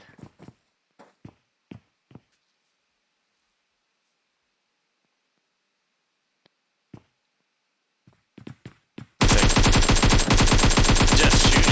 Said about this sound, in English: Just shooting through that smoke, hoping for a hit, but don't really get one